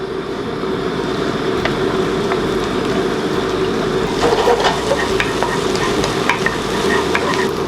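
Scallion, garlic and ginger stir-fry in a little cooking oil, giving a steady close sizzle with occasional scrapes of a utensil in the pan.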